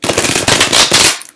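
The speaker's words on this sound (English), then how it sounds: "I really want to do one more shuffle, and then I'm going to cut the deck into threes" A deck of tarot cards is riffle-shuffled up close, with one loud, dense burst of rapid card flutter lasting just over a second before stopping abruptly.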